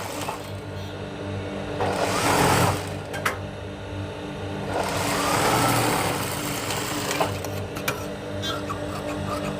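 Sewing machine stitching lining fabric on a garment, running in steady mechanical bursts with brief pauses between runs, close and moderately loud, with no talking.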